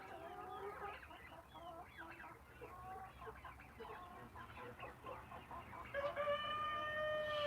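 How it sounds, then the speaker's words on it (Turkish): Turkey poults and chickens cluck and cheep steadily in a Turkish farmyard pen, a dense layered chorus of nearby fowl with a louder, sustained call rising near the end. "Hindi palazlarımız gördüğünüz gibi buradalar."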